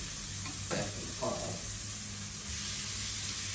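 Flattened meat patties sizzle and hiss loudly in a hot pan, a constant crackling spray close by, with a brief voice speaking over it.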